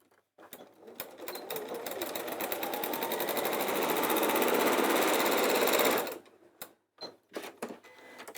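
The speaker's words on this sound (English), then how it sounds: "So open these out, squish together and sew across." A sewing machine stitches across a bag lining in one continuous, steadily quickening whirring run of about five seconds, then stops, followed by a few short stitch bursts and clicks.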